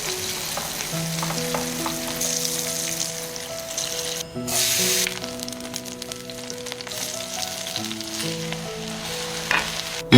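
Starch-coated tofu pan-fries in hot oil, giving a steady, close sizzle with soft crackles. The sizzle runs continuously under light background music, with a brief louder burst of spattering midway.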